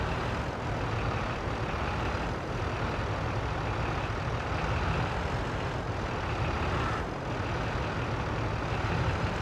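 Tractor moving a header trailer in the video game Farming Simulator 22, a steady rumbling engine drone that holds at an even loudness throughout with no voices.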